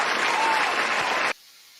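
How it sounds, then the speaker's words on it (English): A played applause sound effect: a dense burst of clapping and crowd noise that carries steadily for just over a second, then cuts off abruptly into near silence. "And maybe some applause."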